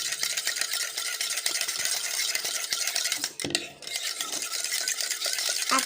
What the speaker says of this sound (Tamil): உப்பு இப்போ நல்லா மிக்ஸ் பண்ணிக்கலாம்.